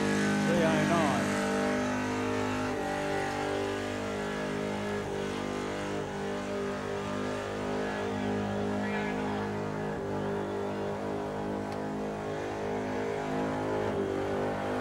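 Cars at the Summernats burnout eliminations keep a continuous, heavy engine roar at high revs. The noise stays at a steady level and sounds distant across the venue, with crowd noise mixed in.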